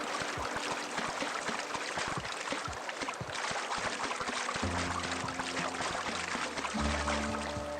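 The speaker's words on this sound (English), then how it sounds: "the waterfall's a good spot to wash your clothes" A waterfall in The Outer Worlds video game gives a continuous rushing, splashing wash of water, with faint tonal music rising underneath in the latter half.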